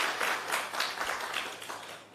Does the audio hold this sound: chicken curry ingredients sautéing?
no